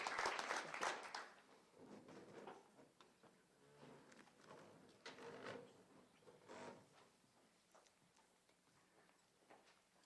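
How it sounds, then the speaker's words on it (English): Scattered applause from a graduation-style audience at a community technical college signing day, loudest in the first second and then thinning into sparse, uneven claps that fade out. "please join me in applauding the next generation of automotive technology professionals"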